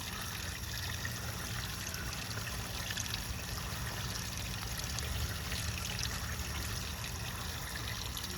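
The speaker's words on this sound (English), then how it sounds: "So yeah, I'm going to do water change in here. Mostly actually just adding new water." Water being added to a bluegill pond, a steady broadband trickling and splashing flow, constant and close throughout with no talking.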